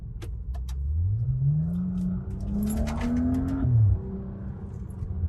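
A 400 hp BMW 335i F30 sedan pulls hard through paddle-shifted gears: the engine note climbs steadily, then drops sharply at a quick shift, close and fairly loud inside the cabin, with no talking.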